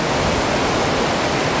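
A creek where stocked trout are fished rushes steadily in a dense, even wash of flowing water, close and unbroken, with no voices.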